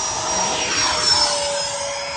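A Freewing Gripen RC model jet passes slowly overhead in calm, windless air, its ducted-fan whine a loud, sustained rushing drone that swells slightly toward the middle as it crosses.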